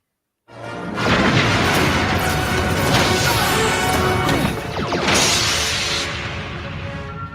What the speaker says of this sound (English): There is a large explosion as the torpedoes hit the Cerritos shields. The ship shakes violently.